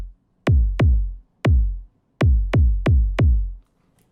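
Electronic kick drum in a breakbeat techno track, processed through an EQ, drum buss and mono utility chain: punchy, beefy low thumps with sharp clicky attacks, loud and isolated, in an uneven broken pattern of spaced and clustered hits.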